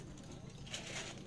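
Pigeons kept in a home loft in Indonesia, soft low cooing close by, faint over a background murmur, brief.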